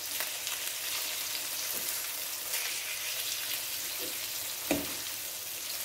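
Chicken pieces searing in a hot pan, a steady close crackling sizzle throughout with a few soft utensil stirs and one brief clunk near the end, no talk.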